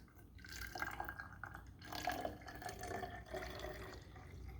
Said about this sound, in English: Who can pour water into this clear jar?